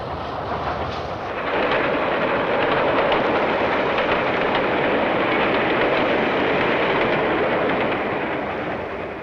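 A freight train hauled by engine 6532 rolls past in the 1950s, a loud, steady, broadband rumble and roar that swells in after the first second and holds for the rest, with no voices.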